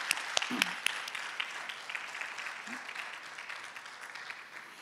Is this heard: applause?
yes